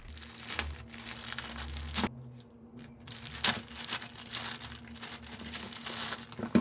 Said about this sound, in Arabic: هنفتح مع بعض كده الكيس اللي احنا شايفين